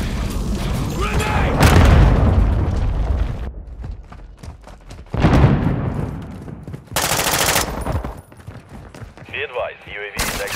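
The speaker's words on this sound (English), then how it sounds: "Grenade!" A grenade explodes in Call of Duty Modern Warfare II multiplayer: loud booming blasts with heavy broadband bursts, mixed with gunfire and clattering mechanical noise, several separate impacts across the span.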